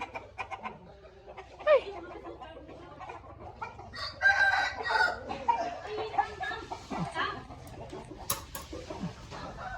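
A rooster crows loudly nearby in a drawn-out call, with other chickens clucking around it and people talking faintly in the background.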